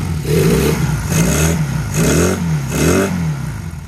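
A Honda CM185 Twinstar motorcycle engine catches and runs close by, revving in four rhythmic surges with a lumpy, uneven idle between them.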